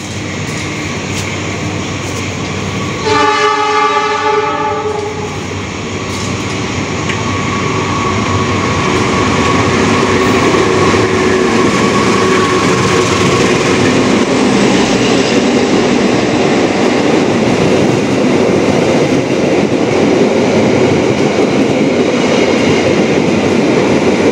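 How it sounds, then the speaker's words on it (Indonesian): Sembrani passenger train overtaking at Semarang Poncol station, passing close and loud as a continuous rumbling roar with a brief horn-like tone early on, filling the whole stretch without speech. "Ini dia kereta api Sembrani yang menyusul kereta kita, kereta api Dharma Wangsa di stasiun Semarang Poncol."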